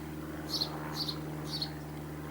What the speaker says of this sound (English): I can hear a couple of singing sparrows